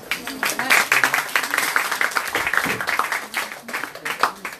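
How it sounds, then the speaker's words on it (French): An audience claps loudly at an event, a dense, continuous applause that rises and falls in waves with a few sharper claps standing out. "j'aimerais qu'on applaudisse très fort Anaïs."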